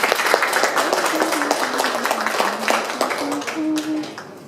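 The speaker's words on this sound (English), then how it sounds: "give yourself another big round of applause" Audience at an academy seminar clapping in a room, a steady patter of applause with scattered sharp claps that fades toward the end.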